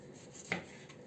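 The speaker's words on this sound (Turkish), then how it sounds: "domateslerimizi de böyle doğruyoruz" A knife cuts through a peeled tomato in a home kitchen while the cook prepares kuru fasulye: one faint, short chopping stroke against a quiet background.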